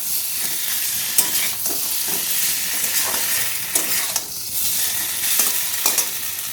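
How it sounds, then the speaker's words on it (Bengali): An ash gourd peel dish stirred in a pan, a loud continuous sizzle with repeated scraping strokes of the spatula at an uneven rhythm, close up and without speech. "একটু নাড়িয়ে নেব"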